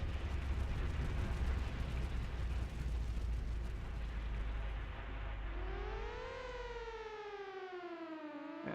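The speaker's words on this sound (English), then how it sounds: "And of course there'd be an explosion in the base" An explosion at a base in Front Mission 3: a dense roaring blast fills the first seconds, then a wailing alarm siren rises and falls over the fading rumble.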